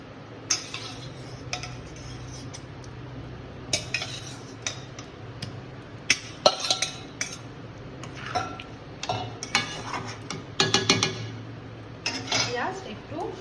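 A spoon stirs a coconut poppy-seed chutney with salt in a pan before fried eggplant goes in, giving irregular metallic scrapes and taps, close and sporadic over quiet background.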